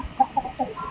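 Chickens clucking in a few short, close, clear bursts over about a second, with faint background noise and no talk.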